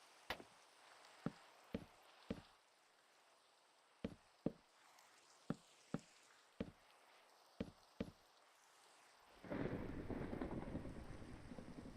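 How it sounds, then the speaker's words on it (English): Rainfall in Minecraft starts late as a dense, steady hiss after several sharp, evenly spaced wooden knocks and chops from building. "Why does it always rain in this game?"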